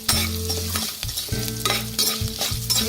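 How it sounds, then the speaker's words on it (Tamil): Green chillies, ginger and dal sauté in a hot pan with salt, stirred vigorously: loud sizzling broken by repeated scraping strokes of a spoon against metal, close and unbroken by talk. "பச்சை மிளகாய் எல்லாத்தையும் சேர்த்து நம்ம இது வதக்கும் போது இன்னும் பருப்பு நல்லா சிறந்து வந்துடும்"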